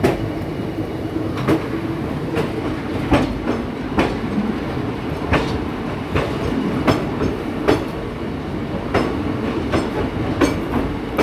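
An Indian passenger train running from Kathgodam toward Izzatnagar rumbles steadily on the rails, heard from on board, with regular clickety-clack wheel beats over a continuous low roar.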